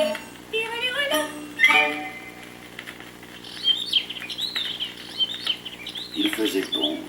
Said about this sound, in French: Les oiseaux volaient au-dessus du petit chaperon rouge en gazouillant sur son passage.